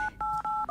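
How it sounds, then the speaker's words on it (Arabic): A telephone keypad sounds a rapid run of four or five steady dual-tone beeps, each a fraction of a second long with brief gaps between, loud and clean in a quiet setting. "الهاتف طبعا يرن."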